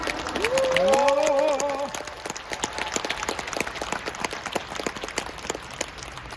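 Seminar audience at a leadership training event in Bangkok claps for themselves, a moderate crowd applause of many hands continuing steadily after a brief voice at the start, fairly distant and even.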